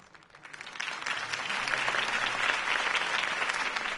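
Applause from a crowd in a Telltale Batman video game swells from a faint start into sustained, dense clapping that carries on steadily to the end.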